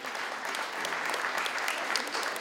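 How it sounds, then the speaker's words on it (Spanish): Audience at a quinceañera expo in Club La Boom, Queens, gives a round of applause, dense clapping that stays steady and moderately loud for a couple of seconds. "¡Un aplauso para ella!"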